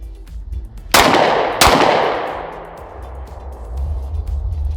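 Two sharp, loud 9mm pistol shots from a Lone Wolf Arms Timberwolf 19X firing Remington 115 grain ammo at an outdoor range, spaced under a second apart, each ringing out into a long decaying echo.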